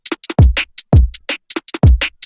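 Drum and bass percussion: punchy kicks with deep booming tails alternating with crisp snares and short hi-hat ticks set slightly off the beat, in a fast, syncopated pattern.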